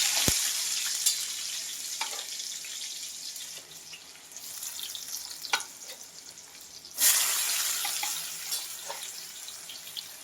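Chopped onions dropped into hot oil for a tomato prawn curry, a continuous soft sizzle with scattered sharper pops and crackles, louder bursts near the start and middle, no talking.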